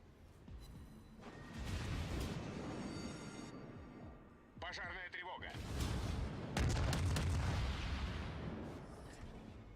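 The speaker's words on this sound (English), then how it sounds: "Now he's taking fire from no less than 4 enemy ships." Naval gunfire and explosions in World of Warships, with several enemy ships firing on one vessel: heavy booming salvos and rumbling blasts that swell and overlap, loud and continuous.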